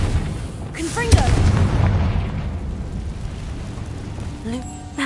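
A Confringo fire spell explodes in Hogwarts Legacy, a sharp booming blast early on that rolls into a rumbling decay, with a short voiced sound near the end.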